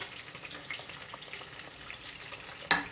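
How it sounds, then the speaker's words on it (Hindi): Fish frying in a pan for a spicy fish and potato gravy crackles softly and continuously, with a brief louder sizzle burst near the end. "और एक तरफ में फिश भी देखने फ्राई हो रही है।"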